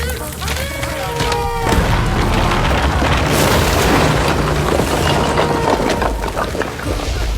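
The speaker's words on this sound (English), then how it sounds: "The wooden bridge collapsed on him, crushing his legs completely." A collapsing wooden bridge in a cave-in, with a heavy booming crash and a spray of shattering and splintering debris that rolls on loudly and continuously, while voices and shouts are partly heard under the rumble.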